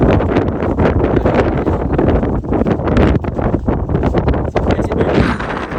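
Strong wind roars across the Girnar mountain in Junagadh during the monsoon, a loud, constant buffeting rush that batters the microphone without letup and drowns out everything else.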